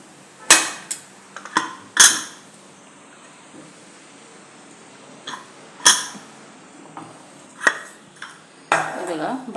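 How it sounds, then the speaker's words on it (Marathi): A pressure cooker lid is opened after cooking pav bhaji, giving sharp metallic clanks and pings in separate bursts over a quiet kitchen background, with a brief rising hiss near the end. "आता आपण झाकण उघडून बघूया."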